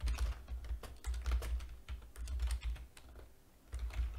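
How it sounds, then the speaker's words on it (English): Typing on a computer keyboard at a desk during a programming session, a quick irregular stream of key clicks in short bursts with brief pauses, close and clear, no talk. "Oh, what are you typing, Chris?"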